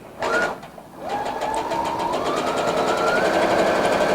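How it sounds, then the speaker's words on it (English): Brother NV950 sewing machine stitching a seam, a brief burst of back stitches, a short pause, then a steady continuous motor whir with rapid needle clatter, close and fairly loud. "I will back stitch a little bit, about 4 or 5 stitches, and then I'll just stitch forward."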